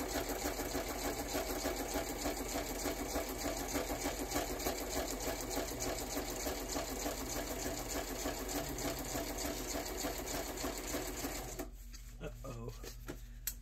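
Sewing machine running steadily and loud for most of the stretch, a dense continuous mechanical whir that stops near the end, followed by quieter handling noise.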